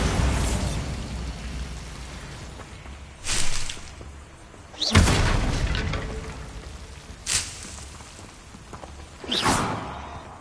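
Bombarda spell blasts from the Hogwarts Legacy video game go off in a handful of separate booming bursts spread across the stretch, each a sharp swell that fades back to a low rumbling background.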